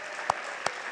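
Applause at a university lecture award presentation, a steady patter of clapping hands with two sharper claps standing out, moderately loud and continuous.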